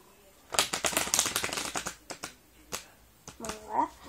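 A deck of playing cards being shuffled up close, a quick run of crisp riffling clicks followed by a few scattered taps, with a brief voice near the end.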